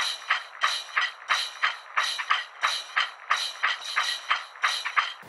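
Two shaker parts play together, a muddier low-pitched sampled loop layered with a crisper self-made pattern, forming a dense, steady rattling rhythm with quick regular accents.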